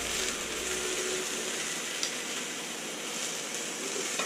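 Onion and garlic char in a hot pan for Mexican salsa, giving a steady, dense sizzle that runs unbroken at moderate level, close by, with no voices.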